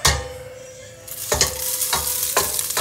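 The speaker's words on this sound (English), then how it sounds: "I'm just gonna take uh, some of our rice. Сюда немножко риса. And stir fry." Rice stir-fried in a pan for Asian-style egg fried rice: a steady sizzle under three or four sharp scraping stirs spaced about half a second apart, close and fairly loud, with no talking.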